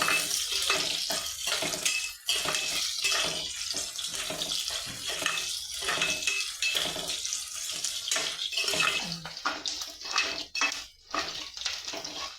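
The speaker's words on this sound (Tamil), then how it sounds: "இப்போ பாருங்கள், வெங்காயம் நல்லா வதங்கிட்டு இருக்கு." Onions sautéing in a pan with green chilies and dried red chilies for vegetable dal rice, a steady close-up sizzle and crackle with brief dips, probably as the pan is stirred, and no talking.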